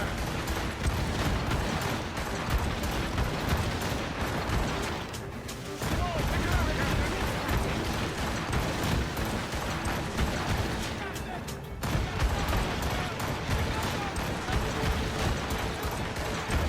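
Ship cannons boom in a naval battle in Assassin's Creed Rogue, with heavy, continuous gunfire and creaking timber. Crew voices shout throughout, and the din drops briefly twice.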